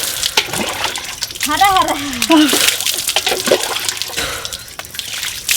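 Water is splashed and poured during a bath, with uneven sloshing bursts. People talk and make playful vocal sounds over it.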